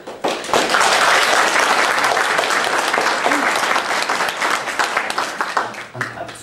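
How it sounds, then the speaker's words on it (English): Applause from an audience at a talk by a British MP, loud sustained clapping that fills the room for several seconds and then fades as a voice returns. "Absolutely deserves a round of applause, quite right."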